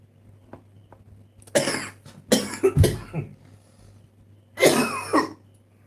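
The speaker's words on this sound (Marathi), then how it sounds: "खोकला आला" Several loud, harsh coughs close by, in two bursts separated by a pause, over a low steady hum.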